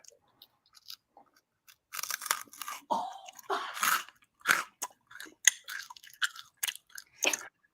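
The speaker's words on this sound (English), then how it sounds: "This is a haichu, which is kind of like a starburst texture, and then freeze-dried mango, which is crunchy." Crunchy freeze-dried mango and chewy Hi-Chew candy are chewed close to the mic in sharp, irregular crunches and bites, loud bursts separated by brief quiet gaps, with no talking.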